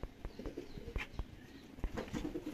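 Soft, low cooing of old-breed high-class pigeons, repeated in short throaty bursts, close by with faint rustling around them.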